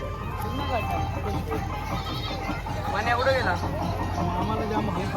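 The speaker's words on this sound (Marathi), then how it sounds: "बकऱ्या" Goats bleat amid a crowd on a Sai pilgrimage walk, with wavering cries rising over a steady murmur of voices and people talking nearby.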